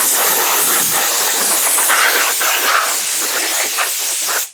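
Cleaner sprayed onto a Stihl MS660 chainsaw, a loud continuous hiss of aerosol spray running steadily for several seconds close to the microphone.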